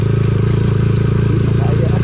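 Motorcycle riding along a rough, bumpy road in Lobo, Batangas, its engine giving a steady low, pulsing drone with some clatter, close and loud.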